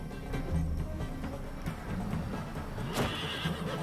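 A horse in the video game Wartales neighs and whinnies over soft clip-clopping hooves, with a sharp, bright cry near the end against a quiet background of game sounds.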